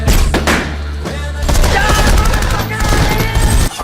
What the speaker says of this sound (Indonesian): Hopper dan timnya melakukan penyerangan. Namun Francis yang hebat mengelak dari semua tembakan